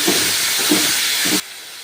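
Tomatoes dropped into a hot pan give a loud, close, continuous hissing sizzle with faint pulsing stirs underneath, ending abruptly after a second and a half.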